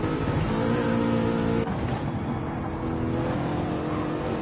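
Aston Martin race car engine roaring steadily in a racing video game lobby race, loud and continuous with a brief dip in pitch midway as it shifts or lifts.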